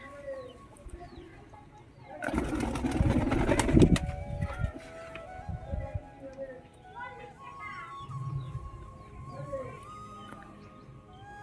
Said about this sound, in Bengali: গাইস কিছু কিছু পায়রার চান করা হয়ে গেছে